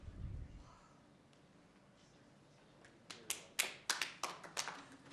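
Applause breaks out at a city council meeting: a short burst of sharp, distinct claps from a few people, fairly faint and sparse, following a low murmur in the room.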